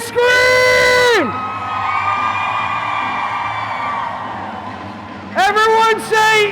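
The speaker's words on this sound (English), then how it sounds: "Let me hear you scream." A conference keynote crowd lets out a loud, sustained scream and cheer, a large roaring mass of voices. A single amplified voice speaks over it at the start and again at the end.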